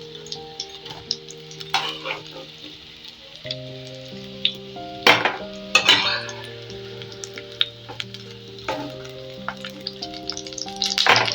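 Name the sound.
bhola fish fingers frying in oil, being lifted out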